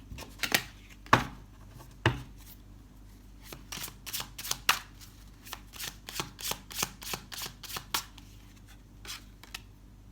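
Tarot cards are shuffled and drawn, a quick series of crisp riffling snaps and slaps, close and dry, with brief pauses between bursts; no speech.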